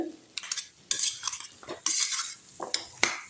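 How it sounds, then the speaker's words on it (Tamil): Jackfruit seed fry stirred in a pan with a metal spatula, bursts of scraping and clinking strokes in an irregular rhythm, close and fairly loud over a light sizzle; no talking. "நல்லா கிண்டி விட்டுடலாம்"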